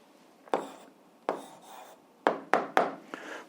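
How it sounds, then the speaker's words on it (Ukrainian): Pen writing an algebra answer on paper, a handful of short scratchy strokes spaced irregularly, closer together toward the end, quiet and close with no speech. "зараз записуємо відповідь, пишемо відповідь"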